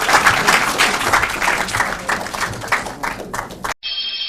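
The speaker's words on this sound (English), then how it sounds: "Let's give the contestant some round of applause" Studio audience applauding a contestant at the end of a round of a junior high school quiz show, steady dense clapping for nearly four seconds before cutting abruptly to a short tonal jingle.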